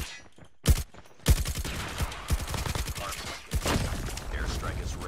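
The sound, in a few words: KN44 rifle gunfire from a video game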